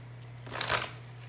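Tarot cards being shuffled by hand for a reading, a single brief riffling flutter that swells and fades in a quiet room with a steady low hum.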